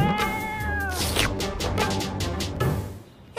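A cartoon cat meows and yowls in several drawn-out, wavering cries, loud and close, with a few sharper squalls between them.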